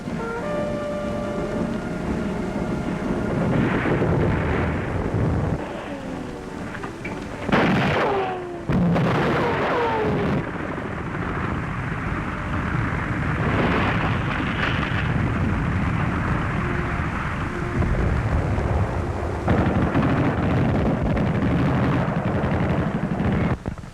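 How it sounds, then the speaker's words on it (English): German snipers fire on the rooftop of Notre Dame during the 1944 liberation of Paris, with scattered sharp shots and rumbling blasts over a constant noisy, crackling archival background, with no voices. "German snipers open up on the roof of Notre Dame."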